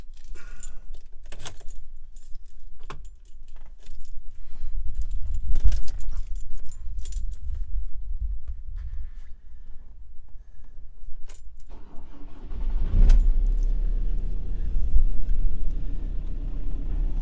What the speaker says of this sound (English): I'm going to actually start the actual engine